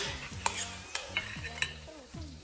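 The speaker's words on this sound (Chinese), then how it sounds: "姜蒜爆香" Ginger and garlic stir-fried in hot oil in a rural Northeast Chinese kitchen, a steady sizzle broken by several sharp scrapes and clinks of the spatula against the wok.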